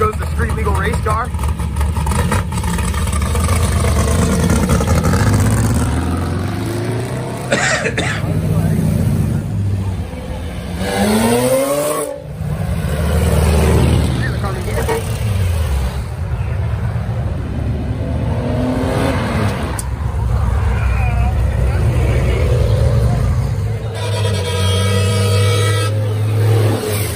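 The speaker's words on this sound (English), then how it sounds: "There goes the street legal race car." A modified street-legal race car on air ride rumbles and revs as it pulls away and drives past at a car show, its loud engine rising and falling repeatedly while people talk nearby throughout.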